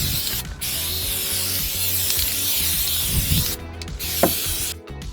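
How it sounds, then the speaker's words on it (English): Anti-corrosion lanolin spray hissing steadily from an aerosol can while cleaning a jet ski, a continuous close spray with brief pauses and a few clicks of the nozzle, no voices. "Gonna get our anti-corrosion Lano spray and go absolutely ham with this stuff."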